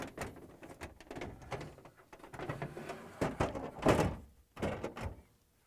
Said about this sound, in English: And now we can close the freezer door.